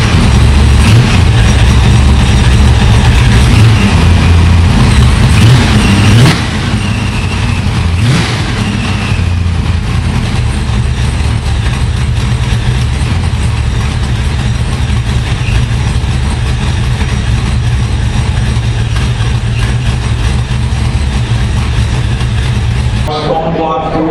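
1968 Ford Mustang Fastback Eleanor replica with a Procharger and a 427 cubic inch small-block Ford V8, running with a loud deep rumble that steps down slightly after a few seconds, then holds steady.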